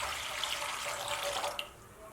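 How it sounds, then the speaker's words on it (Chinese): Plain water pours into a cooking pot for corn porridge as a steady, close splashing stream. It ends with a small clink near the finish, and nobody speaks. "锅内倒入小半锅的清水"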